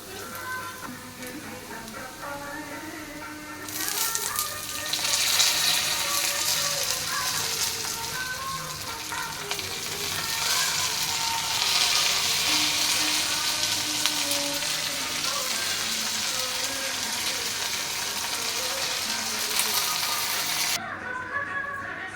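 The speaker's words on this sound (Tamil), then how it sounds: "பாருங்கள், புதினா வதங்கிடுச்சு." Mint leaves sautéing in a pan for mint chutney, a loud, dense, continuous sizzle close up that swells and stays strong for most of the stretch, with no one talking.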